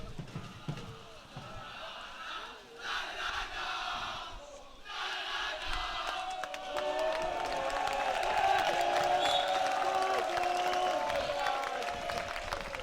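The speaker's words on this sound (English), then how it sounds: "the Bishop's crowd is really getting into their game now" Spectators at a schoolboy water polo match between Bishops and Paul Roos cheer and roar in a sustained wall of crowd noise that builds louder toward the end, with chanting mixed in.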